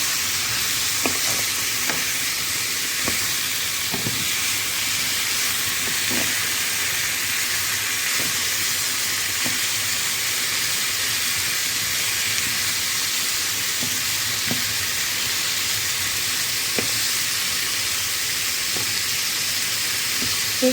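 Chicken escalopes frying in a pan with a continuous steady sizzle, broken by soft periodic clicks and scrapes of a utensil moving through the pan, with no talking.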